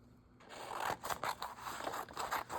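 Scissors cut through paper close by, with a quick run of crisp snips and rustles in a quiet room.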